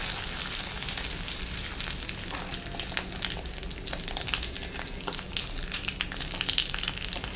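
Hot tempering poured over cucumber pachadi, an Onam sadya side dish, crackles and sizzles steadily throughout, with scattered sharp pops from the spices and no voices.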